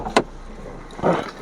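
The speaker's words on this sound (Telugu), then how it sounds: "4 పవర్ విండోస్ వర్క్ చేస్తున్నాయి" A short click, then the whirring hum of a 2011 Hyundai i10 Sportz's electric window motor running for a moment, close by.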